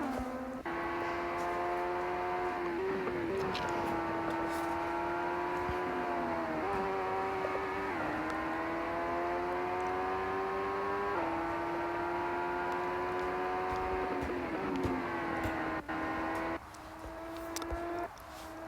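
A racing car in an F1 career video game drones at high revs with a sustained whining engine note that shifts pitch through gear changes, steady and fairly faint throughout.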